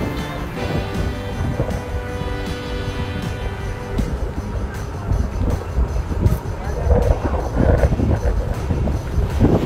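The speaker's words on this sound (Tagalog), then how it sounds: "Lakas ng hangin." Strong wind buffets an outdoor microphone in a roaring, continuous rumble that swells and gusts louder toward the end, with a busy background and faint talk underneath.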